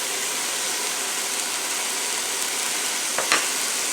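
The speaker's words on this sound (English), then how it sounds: "sizzling away" About one and a half pounds of ground beef sizzles in a pan, cooked after onions, a constant loud frying hiss with a brief scrape near the end.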